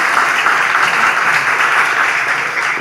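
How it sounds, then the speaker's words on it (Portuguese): An audience at a live interview bursts into steady, dense applause that fills the room at an even level throughout. "Boa, pode aplaudir. Não é proibido."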